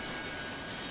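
A Harrier jet in the DCS World video game gives off a steady, faint jet-engine roar with a constant whine and no variation across the short moment, and no one talks.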